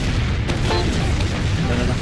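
Explosions from a Soldier bombing in Team Fortress 2, heard as a dense, loud low rumble of blasts running throughout amid game noise, with a voice talking over it.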